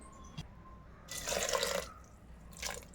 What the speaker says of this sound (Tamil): இன்னும் கொஞ்சமாக நான் தண்ணி சேர்த்துக்கிறேன்